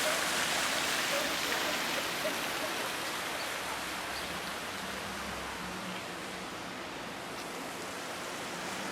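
Water splashing steadily in a town fountain in Zwettl, Lower Austria, a constant broad wash of spray and falling water close by, with no talking.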